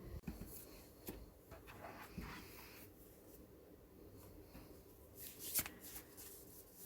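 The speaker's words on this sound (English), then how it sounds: "So I'm going to shuffle the cards now." A tarot deck being shuffled, a soft continuous papery sliding and riffling close by, with occasional light taps and clacks of the cards in a quiet room, one sharper flick near the end.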